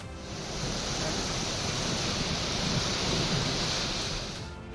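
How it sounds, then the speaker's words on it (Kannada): Heavy monsoon rain in Savadatti taluk, Belagavi district, North Karnataka, a dense, steady roar of downpour with a low rumble of thunder beneath, fading in and out, with no voices. "ಬೆಳಗಾವಿ ಜಿಲ್ಲೆಯ ಸವದತ್ತಿ ತಾಲೂಕಿನಾದ್ಯಂತ ವರುಣಾರ್ಭಟ ಜೋರಾಗಿದೆ."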